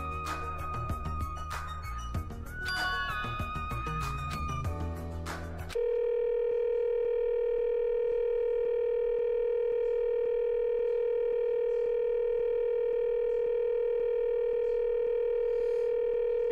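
A steady telephone ringback tone from the video game Danganronpa 2, preceded by a few seconds of busy background music and sound effects, then a continuous unbroken electronic tone holding alone for about ten seconds.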